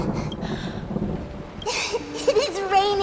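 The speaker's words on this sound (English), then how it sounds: "It is raining!" Rain and thunder in the video game Honkai Star Rail, a low rumbling wash of storm noise beneath game voices, with a tonal cue and chatter rising near the end.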